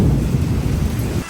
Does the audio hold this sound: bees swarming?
no